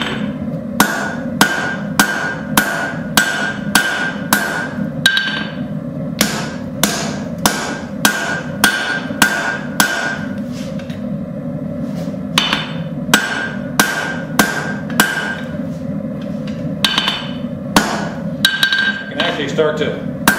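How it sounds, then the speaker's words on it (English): Blacksmith forging tongs from hot steel with a heavier hammer, giving a steady run of sharp, ringing anvil strikes in bursts with short pauses, close and loud over a low background hum. "I might switch to my heavier hammer"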